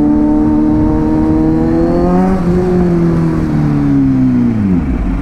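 A Kawasaki Z900 motorcycle engine drones loud and close, its pitch climbing then falling away as the revs swell and drop, with no voices over it.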